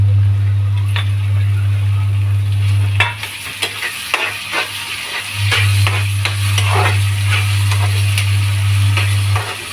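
Chopped tomatoes fry in a pan for vegetable poha, giving a steady close sizzle broken by scraping stir strokes and clicks, with a low hum running underneath.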